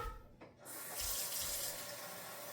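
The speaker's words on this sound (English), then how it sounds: "now it's time to take it to the sink. Put the water on." A kitchen sink tap turns on and water runs steadily to rinse rice for Puerto Rican rice and beans, a loud continuous gush after a short quiet start.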